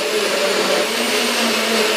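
A Nutri Bullet blender whirs steadily while mixing frozen banana ice cream, a loud, continuous high-pitched motor drone with a slight pulsing grind throughout and no voices.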